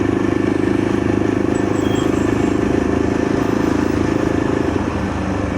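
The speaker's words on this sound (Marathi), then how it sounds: "सगळे बाईक रायडर लोक चाललेत." Motorcycles riding along the Mumbai–Goa highway in the Konkan region: a steady, loud engine drone with wind rush, heard close and continuous throughout.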